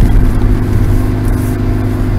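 New car on the road, a steady, loud engine and road drone heard from inside the cabin, a continuous low rumble with a slight rise in revs.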